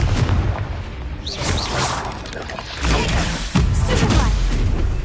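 A Confringo fire spell from the game Hogwarts Legacy bursts in a loud, close boom with whooshing debris, heard among dense battle noise and a player's shouting.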